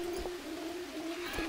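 Jungle birds in the video game Green Hell call softly from a distance over a steady ambient hum, with a couple of faint coos or chirps rising briefly above the background.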